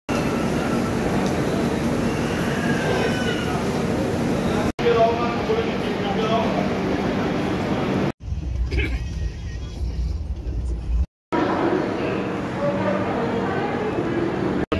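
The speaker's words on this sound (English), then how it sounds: "my train has arrived" Loud, continuous rumble of the Santragachi Express passenger train arriving at a station around 4 a.m., with rolling clatter and a brief muffled stretch; voices murmur faintly underneath.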